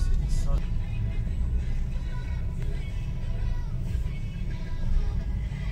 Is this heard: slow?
yes